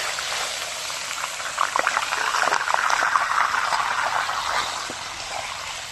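Meat dropped into a hot pan of cooked cumin and chili for a village-style chicken curry, giving a steady close hiss of frying with crackling pops throughout, no voices.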